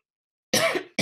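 A single sharp, close cough from a woman giving an artist talk, after a moment of silence, followed by the start of another cough.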